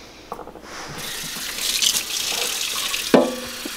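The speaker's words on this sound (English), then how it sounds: "Fill it with water." Water runs from a tap into a jar during sprouting prep for chicken feed, a short gushing stream with clinks of glass and a sharp knock near the end.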